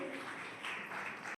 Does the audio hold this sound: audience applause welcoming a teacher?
yes